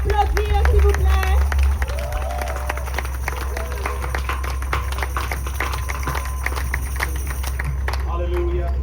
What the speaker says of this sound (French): Est-ce que vous pouvez applaudir, s'il vous plaît?